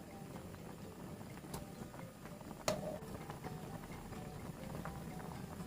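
A pot of Korean jjigae stew with added chili flakes simmers quietly, with soft continuous bubbling and small pops and one sharper click partway through.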